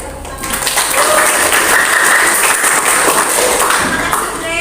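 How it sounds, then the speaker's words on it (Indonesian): A classroom of students applauding together, steady dense clapping held at an even level for a few seconds, close and fairly loud. "Boleh beri tepuk tangan."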